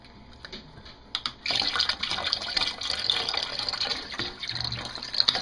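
Vegetable stock poured into a turkey brine: a faint, continuous splashing and gurgling of liquid building after a second of quiet and running steadily to the end, with a few small clinks.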